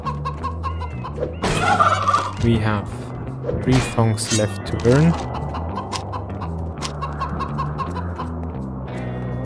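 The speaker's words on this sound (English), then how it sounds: "We are surrounded by stupid chickens." Chickens cluck in a video game called The Baconing, a busy scatter of short calls heard alongside steady game music, with someone talking over the top for much of the clip.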